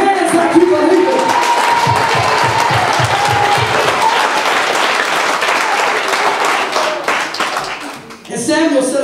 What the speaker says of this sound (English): If you believe it, clap your hands like you believe it.